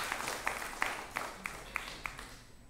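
Sparse applause at an Independence Day special Tamil pattimandram debate as the team leader is welcomed, with a few distinct, evenly spaced claps that are faint and distant and fade out toward the end.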